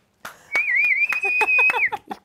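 A singer whistles a short, wavering melody at close range for about a second and a half, with breathy voiced bursts and soft vocal sounds around it.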